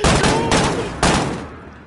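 Two loud, close gunshots from a gun in a video game, sharp blasts about half a second apart, each trailing into a decaying echo.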